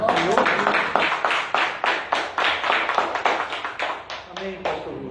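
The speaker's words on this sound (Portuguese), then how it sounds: "Vamos aplaudir" A church congregation claps in a steady, fast rhythm, loud and close, with the beats continuing for several seconds before thinning out near the end.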